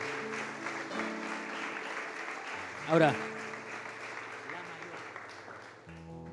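A church congregation claps through much of the passage, thinning over time, under held keyboard chords, with a brief loud burst midway and a voice speaking near the end.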